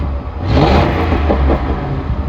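An old LAPD police car that had sat for years idles just after starting, its engine giving a loud, steady low rumble with a slight rise in revs partway through and no voices over it.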